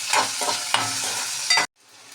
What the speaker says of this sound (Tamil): இஞ்சி, 4 பல்லு பூண்டு நசுக்கி வச்சுருக்கேன், அது பொடியாக சாப் பண்ண வெங்காயம் நல்லா ஃப்ரை பண்ணணும்.